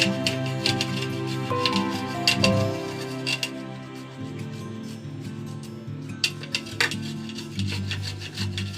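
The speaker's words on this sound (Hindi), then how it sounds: "अदरक को हम पीस लेते हैं।" Fresh ginger being crushed or ground by hand for masala chai, a steady rough rubbing and rasping with repeated scraping strokes, fairly close and moderately loud, no talking.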